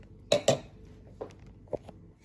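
A spoon stirring chicken paprikas stew in a pot gives a few sharp clinks against the metal, two close together and then several softer knocks, over quiet background.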